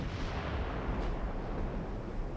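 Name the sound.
battleship guns firing in naval video game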